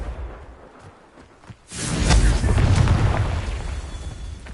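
A Confringo fire spell in the Hogwarts Legacy video game bursts into a loud, booming blast with a rushing whoosh, swelling after a quieter lead-in and rumbling on for a couple of seconds.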